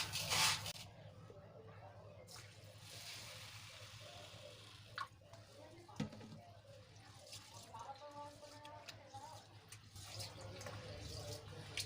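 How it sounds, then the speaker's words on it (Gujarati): Dal and rice being rubbed and rinsed by hand in a bowl of water for Gujarati kadhi khichdi, with steady splashing, swishing and dripping close by, a brief louder burst of water at the start. "આ રીતે મસલીને આપણે બેથી ત્રણ પાણીએ ધોઈ લેશું"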